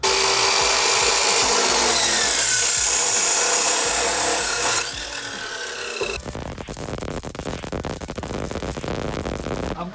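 A cut-off grinding disc slices through metal pieces for a custom Nissan Micra ute build, giving a loud, continuous rasping screech that shifts to a harsher, lower grind partway through, with no voices.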